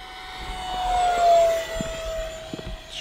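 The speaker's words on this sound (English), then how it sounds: "It looks fast and sounds fast because it's a jet" A small RC jet airplane flies past with a steady high whine that swells as it nears and then recedes, with a few soft outdoor thumps beneath.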